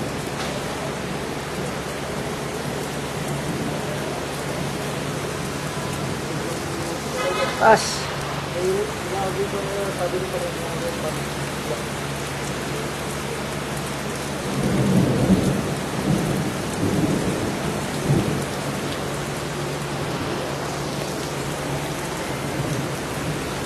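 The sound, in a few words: heavy rain and thunderstorm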